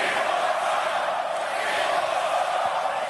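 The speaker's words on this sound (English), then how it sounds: "the round of applause he's getting right now is pretty staggering" A large arena crowd at a UFC event in New Jersey roars and cheers for Donald Trump, a dense, loud, unbroken wall of noise that holds for about three seconds with no clear single voice.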